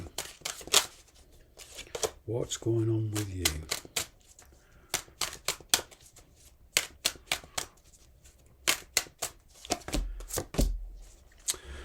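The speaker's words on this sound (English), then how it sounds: "A couple of shuffles." Tarot cards shuffled in a few quick bursts of riffling and tapping, with a person talking intermittently between the card sounds.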